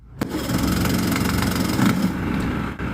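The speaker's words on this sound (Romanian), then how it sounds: "pune cheia și pornește motorul" A 45-year-old Boston Whaler boat motor cranks and catches, then runs at a steady, rough idle close by, loud and continuous after a brief start.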